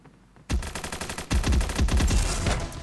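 Rapid bursts of automatic gunfire from the shooter game Bullet Angel, starting after a brief quiet moment and then rattling on loud and dense with no pauses.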